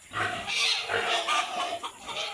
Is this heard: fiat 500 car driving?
no